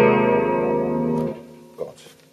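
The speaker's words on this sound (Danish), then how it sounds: "Jeg kunne prøve at sige, at jeg vil godt have en lille smule chorus på her." A guitar chord played through a Nux Mighty 50X 50-watt digital amplifier with a light chorus effect rings loud and sustained for over a second, then fades as faint handling or voice sounds follow.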